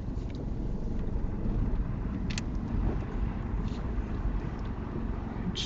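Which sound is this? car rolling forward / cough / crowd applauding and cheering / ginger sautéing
car rolling forward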